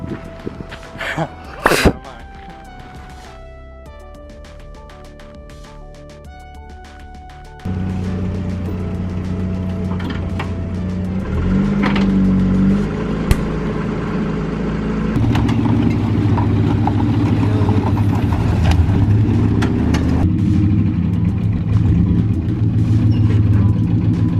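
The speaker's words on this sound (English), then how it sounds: "Even though this truck is misfiring, it still pulled it all the way from over there." A misfiring truck engine idles roughly, then revs and labors steadily under load while towing a Honda Civic, growing louder and more strained, with people talking intermittently nearby.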